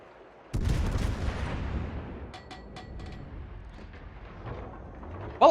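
Naval artillery in World of Warships: a heavy salvo booms out and rolls away into a long rumbling decay, followed by lighter distant thuds and a sharp sound at the very end.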